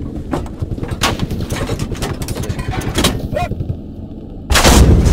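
Heavy tank and weapon fire in a video game battle involving a Type 99 tank, with dense, loud overlapping booms and bursts throughout and a sharp, louder blast near the end.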